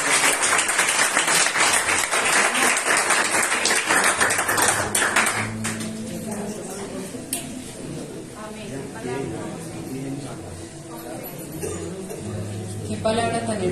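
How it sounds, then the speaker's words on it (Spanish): A church congregation applauds loudly and densely for several seconds, then the clapping fades into scattered claps under a speaking voice and murmuring room sound. "Vamos a dar un aplauso a Jesús."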